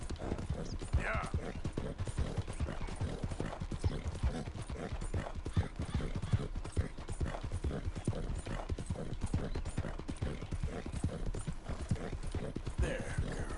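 Rapid, steady clip-clop of a galloping horse's hooves in a cowboy video game, running continuously and close, with occasional faint mechanical gear-like clicks and some talk over it.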